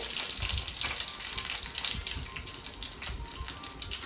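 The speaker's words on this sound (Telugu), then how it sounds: "ఇవి జీలకర్ర ఆవాలైతే మంచిగా ఫ్రై అయిపోతున్నాయి" Cumin and mustard seeds sizzle and crackle in hot oil, a steady close frying hiss with scattered pops and no voices.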